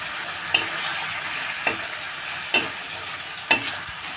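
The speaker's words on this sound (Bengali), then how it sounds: "মশলাটা আমার অনেকটা কষানো হয়ে গেছে, আর একটুখানি কষাবো। দিয়ে দেবো কাঁচা লঙ্কা" Spice paste for a Lylon tika fish gravy sizzles gently in a pan under four sharp utensil scrapes spaced about a second apart, with no talking.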